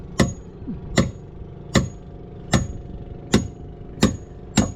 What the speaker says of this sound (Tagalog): Madulas na yung pako, ang martilyo.